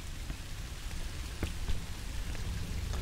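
Heavy rain falls in the horror video game Song of Horror, a steady broad hiss with scattered louder drop impacts on a surface and no voices.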